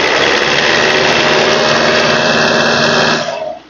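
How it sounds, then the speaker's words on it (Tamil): Old Tata Sumo engine running steadily, a loud close drone with constant mechanical hum that holds even for about three seconds before trailing off at the end. "இன்ஜினோட நாய்ஸை லைவா கேளுங்க"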